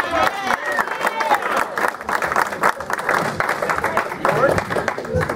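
A comedy club crowd breaks into loud, sustained applause and cheering for comedian Steve Gillespie. The clapping stays steady and full throughout, mixed with crowd noise and voices.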